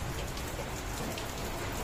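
Steady rainfall outdoors, wetting sheets hung outside, produces an even, continuous wash of fine drops at moderate volume with no pauses and no voices.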